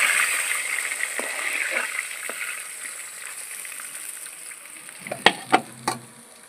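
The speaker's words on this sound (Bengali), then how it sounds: "মাছগুলো সব লাল করে ভাজা হয়ে গেছে" Magur catfish fry in hot oil until reddish-brown with a continuous close sizzle that eases off partway, then three sharp utensil clinks toward the end.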